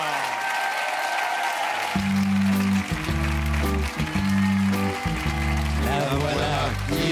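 A studio audience on a French television variety show applauds loudly; the clapping starts alone and then continues under a band playing music.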